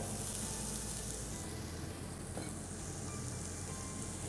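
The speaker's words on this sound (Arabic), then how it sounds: "البصلات عم يتقلوا والتومات والبصلات هون عم يتقلوا كمان" Onions and garlic sizzle steadily in ghee in a pot, a soft continuous frying hiss with faint stirring.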